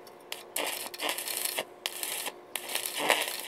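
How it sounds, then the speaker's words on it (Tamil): Welding an iron plate onto a quad bike gearbox built from a Suzuki bike, with short crackling, buzzing arc bursts broken by brief pauses, sharp and close, and no speech. "ஃபர்ஸ்ட் இந்த அடிப்பக்கத்தை இந்த பெரிய பீஸை வச்சு அப்படியே வெல்டிங் வச்சுக்குவோம்."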